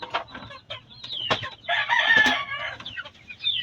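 Pet chicks in a feeding tray chirp and peep, with short high calls and a brief louder burst of chatter, close by and with no voices.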